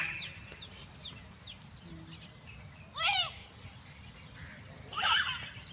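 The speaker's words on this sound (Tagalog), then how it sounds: "pakinggan ng mga tunog ng ibon guys" Birds call in an open park, with two loud chirping bursts standing out over faint background twittering and a low ambient rumble.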